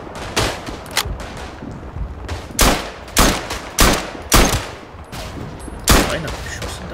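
Rifle fire in the World War I shooter Verdun, a series of loud, separate shots spaced roughly half a second to a second apart over a rumbling battlefield bed.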